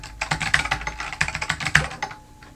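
Rapid clicking and typing on a computer keyboard, with a dense run of close, crisp keystrokes in an irregular rhythm that trails off near the end, and no voices.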